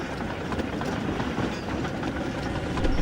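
A train rumbles steadily along the rails with a dense, continuous roar and faint rhythmic clatter, loud and close throughout.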